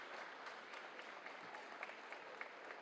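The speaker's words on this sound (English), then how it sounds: "Larry gets the applause of everybody, whether they're wearing green or gold or red and blue" Steady, fairly distant applause from a crowd at a boys' varsity volleyball match between Classical and Revere, honoring an injured player, sustained and even throughout.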